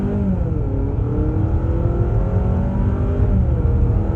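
A 2025 Honda CR-V hybrid drives off, giving a steady, loud close engine and road drone with rising harmonic whine as it accelerates, continuous throughout with no talking.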